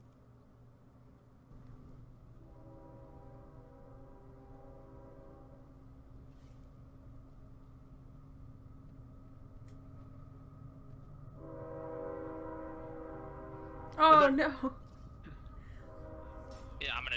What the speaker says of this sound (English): Dang it, train.